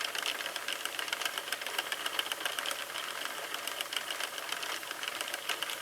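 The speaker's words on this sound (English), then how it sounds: "I'm going to continue to crank and crank until I have determined that my project is finished" Sentro knitting machine being hand-cranked, a close, fast and steady rattling clatter of plastic needles clicking in a continuous rhythm, with no talking.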